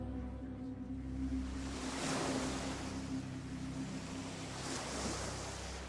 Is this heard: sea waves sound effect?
yes